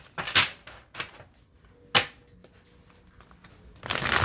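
Tarot cards being shuffled and handled: several soft, brief riffles and slaps, irregularly spaced and close, ending in a longer papery rustle.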